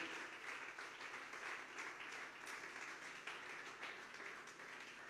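A church congregation applauds steadily, a broad wash of clapping from many hands that holds for several seconds without pause.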